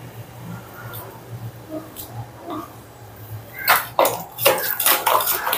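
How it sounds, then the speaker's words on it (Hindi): A spoon stirs yogurt marinade with lemon juice in a bowl for paneer tikka. Soft scraping gives way to sharper clinks and clatters of metal against the bowl, growing louder toward the end. "इस तरह से अच्छे से मिक्स कर देंगे हम।"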